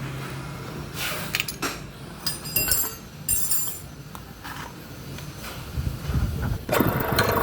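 Mollar T800 airless paint sprayer machine running after assembly, still leaking: a rough mechanical hum with repeated sharp clinks and knocks, fairly close, no talk.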